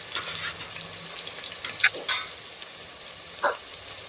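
Chopped onion frying in a pot for a crab curry, giving a soft, close sizzle with a few sharp clinks and stirring scrapes from a utensil, and no voices.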